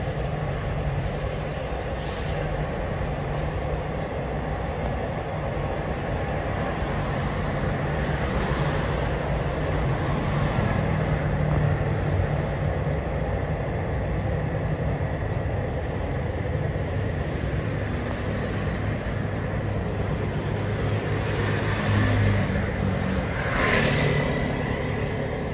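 Thai southern-line rapid train 171 from Krung Thep Aphiwat to Sungai Kolok, hauled by an Ultraman locomotive, rumbles along continuously with a steady, loud roar of wheels and engine, heard close up for the whole stretch without talking.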